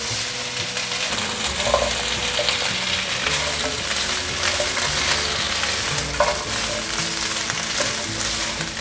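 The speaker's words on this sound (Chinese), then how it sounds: "现在放入黑木耳，还有白木耳，快速拌炒。" Baby corn with black and white wood ear fungus stir-fried in a wok, a loud steady sizzle running throughout with scattered clacks of the spatula and no talking.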